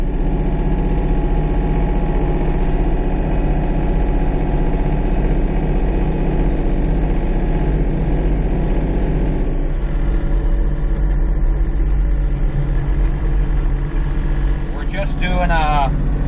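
A Kioti 3510SE compact tractor engine runs steadily and loudly on cruise control while scraping snow, with a constant low rumbling drone and a brief rattling change near the end.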